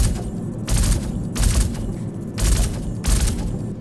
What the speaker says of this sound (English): Yeah, we're gonna shoot it.